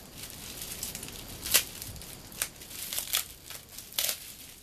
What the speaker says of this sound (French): elle a commandé une poudre, je vais essayer de la déballer